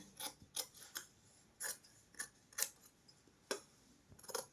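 Scissors snip lining fabric laid under a paper pattern, crisp separate close-up cuts in an uneven rhythm, about nine in quick succession with short quiet gaps.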